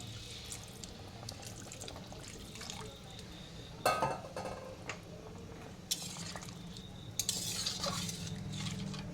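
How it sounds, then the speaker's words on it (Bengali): Hot water poured into a simmering curry in a home kitchen: a wet splash and gurgle against steady background hum, with stirring clinks and a few louder bursts of pouring. "সেই গরম জলটা দিয়ে দিচ্ছি।"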